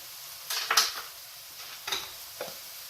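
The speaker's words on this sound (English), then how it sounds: "I want to saute my onions a little bit so they get like a golden brown to them" Onions sautéing in a pan to go golden brown for eggplant pasta: a soft steady sizzle with a few scraping stirs of a utensil against the pan, close and quiet.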